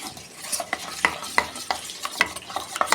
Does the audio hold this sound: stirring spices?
yes